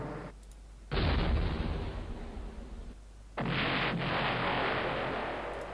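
Cannon artillery fires in the video game Battleground: Antietam. Two loud booming blasts come about two and a half seconds apart, each trailing into a long, sustained rumbling decay.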